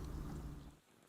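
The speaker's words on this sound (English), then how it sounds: "the rain sound changed again" Rain falls as a soft, dense wash with low rumbling underneath, steady at first and then thinning and fading toward the end, with no voices present.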